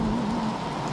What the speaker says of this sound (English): talking about getting some rain